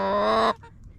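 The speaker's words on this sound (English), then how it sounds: "So there's 9 chickens in here." One chicken in a coop of nine lets out a single drawn-out, loud cluck or squawk, close by, then falls quiet.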